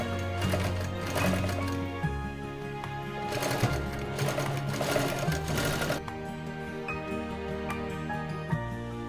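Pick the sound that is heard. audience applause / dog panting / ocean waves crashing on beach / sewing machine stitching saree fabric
sewing machine stitching saree fabric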